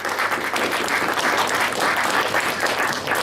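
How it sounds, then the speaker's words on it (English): Steady applause from a crowd, many hands clapping continuously at an even level without pause. "would you like to give them a round of applause, please?"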